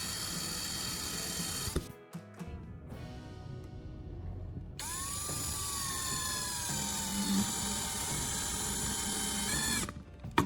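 A small bracket is screwed onto a wooden base with a power drill or driver, giving steady close mechanical whirring in bursts with brief pauses, including one long rising-and-falling run.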